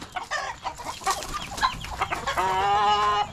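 Chickens on a farm in the Philippines cluck in short, irregular bursts close by, ending in a longer drawn-out squawking call, with no voices over them.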